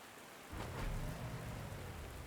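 Steady rain hisses in the war strategy game Panzer Corps 2, faint at first and then swelling into a fuller downpour with a low rumble underneath.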